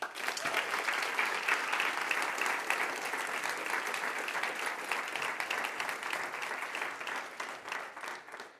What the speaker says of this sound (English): I think we shall give them one more applause.